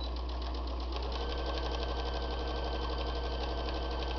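A sewing machine stitching a fabric bowl cozy, running steadily at a fast, even needle rhythm for the whole stretch, close up and moderately quiet.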